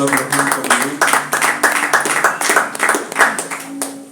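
A church congregation applauds and cheers with loud rhythmic clapping in quick regular beats, with voices shouting and speaking over it throughout.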